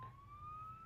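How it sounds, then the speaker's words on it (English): A rising siren tone from an emergency vehicle, taken to be an ambulance approaching, wails steadily through one second, faint and distant over low background rumble with no talking. "I think there's a ambulance approaching."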